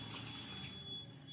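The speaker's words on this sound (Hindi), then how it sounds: "और अब डाल दूंगी मैं पानी।" Water is poured into a pot holding lentils and spinach, a brief soft steady splash and trickle heard up close without talk.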